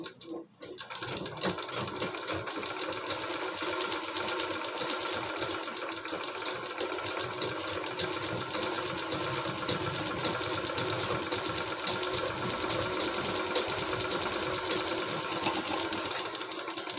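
A sewing machine runs steadily and continuously at close range, stitching a curved seam on a machine cover made from scrap fabric, with a brief pause just at the start.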